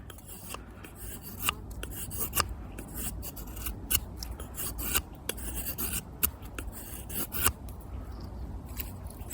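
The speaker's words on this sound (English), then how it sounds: "When cutting this green hazel, you can take shavings of no problem with the factory edge." Opinel No. 8 knife with a factory edge shaving curls from green hazel, a series of short, crisp scraping strokes repeating at an uneven rhythm, close and fairly quiet, with no talk.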